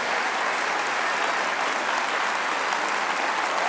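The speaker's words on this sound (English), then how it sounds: "can we give them a round of applause for all that they are and all that they do for all of us" Steady, dense applause fills a hall at a Boys & Girls Clubs Alumni Hall of Fame event as the audience honors the counselors, continuous and even throughout.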